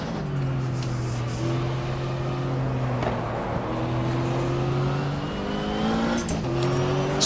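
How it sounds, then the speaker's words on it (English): A simulated Oldsmobile race car in GTR2, the 1995 Daytona 24 Hour, drones at steady engine pitch as it enters the pits, rising and dipping with gear changes, alone without voices. "That looks like Jeremy Dale and the Bricks Oldsmobile coming to the pits"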